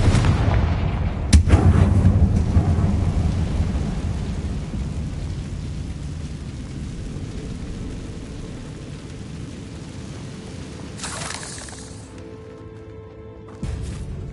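A Confringo blasting spell explodes in a Harry Potter video game, giving a sharp loud burst followed by a long rumbling roar that slowly fades, then a second, briefer burst near the end.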